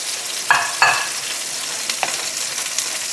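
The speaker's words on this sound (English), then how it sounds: "Give it a stir, like so" Sautéed zucchini and mushrooms sizzle softly in a pan, and two sharp utensil scrapes and clinks stand out near the start before a quieter hiss continues.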